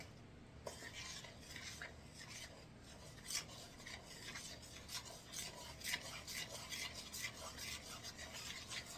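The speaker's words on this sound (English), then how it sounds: "So let me get this stirred up." Zucchini bread batter being stirred by hand in a bowl, a steady run of soft scraping, rasping strokes with occasional clicks of the utensil against the bowl, close and fairly quiet throughout.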